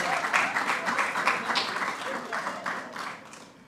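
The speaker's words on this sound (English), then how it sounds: "Give her a round of applause." An audience at a cabinet press briefing claps steadily for a minister after praise for her budget, a dense wash of hands that holds for several seconds and then starts to thin toward the end.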